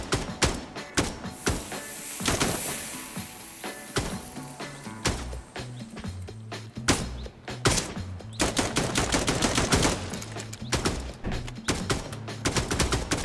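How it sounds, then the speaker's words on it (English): Gunfire in an old school tactical shooter video game comes in bursts, sharp single shots and rapid automatic volleys rattling close and loud, with thuds among them and no talk. "I have not the slightest idea of what the frick I'm even shooting at"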